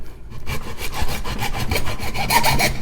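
Hacksaw cutting through plastic RC gearbox pieces, a close run of rapid back-and-forth rasping strokes at a steady rhythm, loud and alone after a brief quiet start.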